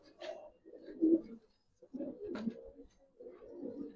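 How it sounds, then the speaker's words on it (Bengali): A young male and female pigeon pair coo in short throaty bursts, three or four soft phrases close by with brief pauses between them. "একবারে ইয়াং কবুতর, দুইটা কবুতর দেখেন মাশাআল্লাহ"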